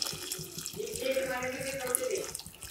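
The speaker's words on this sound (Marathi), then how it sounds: "आता आपण याच्यात ओततोय गरम पाणी" Hot water poured from above into a pot of home-grown rice for prawn rice, a steady splashing pour that lasts about two seconds before tapering off, with faint kitchen clatter around it.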